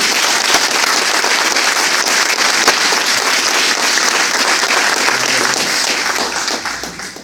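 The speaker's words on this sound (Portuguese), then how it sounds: "Aplauda o Senhor, amado." A church congregation applauds loudly and steadily, a thick, continuous roar of clapping that tapers slightly at the very end.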